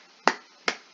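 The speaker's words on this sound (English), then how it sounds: "Clap." Two crisp, sharp hand claps about half a second apart, close and isolated against near silence.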